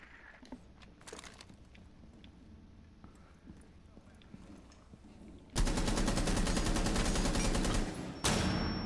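Automatic gunfire in Rainbow Six Siege, with scattered single shots and clicks early on, then a loud sustained burst of rapid fire near the end, briefly cut off and resumed, while voices talk.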